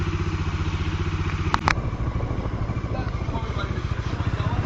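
A motorcycle on a cold start settles into a steady, rhythmic thumping idle close by, with a brief clatter partway through and a voice talking briefly.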